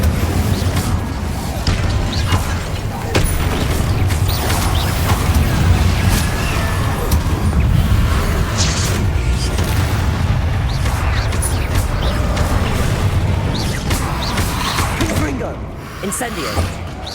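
Repeated Confringo and Incendio spell blasts in Hogwarts Legacy, a dense, continuous stream of booming bursts and whooshes with loud low rumble throughout, no spoken voice.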